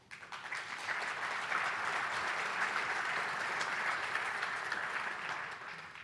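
A crowd at the 2025 State of the County Address breaks into sustained applause, a dense, even patter of many hands that swells quickly, holds steady for several seconds and begins to taper at the end.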